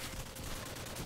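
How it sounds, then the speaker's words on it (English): Rapid gunfire in the Call of Duty: Advanced Warfare video game: a dense, continuous burst of shots in a fast crackling rhythm, moderately loud, with no speech. "You got enemy gunfire down here."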